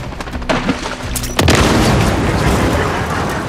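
An enemy helicopter blown up in Call of Duty: Modern Warfare 3, a loud close boom that bursts in after scattered gunfire and rolls on as a rumbling, crackling tail.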